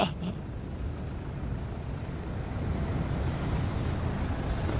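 Ocean waves rumble and wash continuously in a broad roar, with wind buffeting the microphone and a brief knock at the very start.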